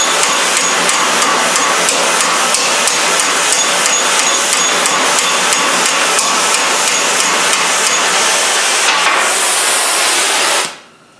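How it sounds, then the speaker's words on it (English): Ball peen hammer riveting a sheet metal rose, a rapid, continuous stream of loud metallic strikes that runs for about ten seconds and then stops abruptly. "Now I'm going to take the ball peen in. I'm going to round that up"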